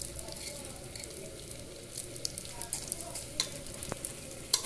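Rice frying in a pan while being stirred, a quiet steady sizzle with light clicking and scraping strokes from the spoon, growing more frequent toward the end.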